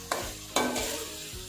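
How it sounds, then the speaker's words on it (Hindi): Chopped carrots are stirred in a hot pan for chow mein, giving a steady close sizzle with two louder scraping stirs and a softer one, no voices. "सबसे पहले गाजर ऐड करूंगी क्योंकि ये ज़रा ज़्यादा टाइम लेती है। थोड़ा सा इस तरह इसको मिक्स कर लेंगे।"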